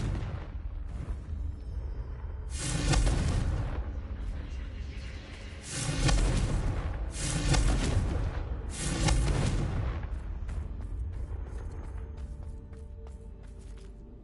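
Confringo blasting spells in Hogwarts Legacy, a game, set off a series of booming explosions: three or four loud, close blasts a few seconds apart, each followed by a rumbling tail.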